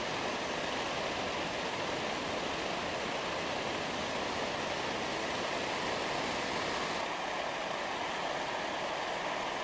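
The upper falls on Colorado's Piedras River pour in a steady, dense roar of rushing water, loud and unbroken from start to finish, with no voices over it.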